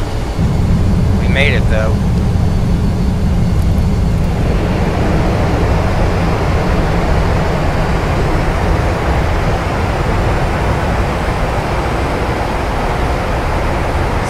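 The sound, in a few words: airliner hard landing with thrust reversers roaring on rollout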